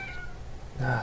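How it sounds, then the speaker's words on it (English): A cat meows in a Minecraft-style game world, one short call swelling loudly near the end of a brief moment. "damn cat."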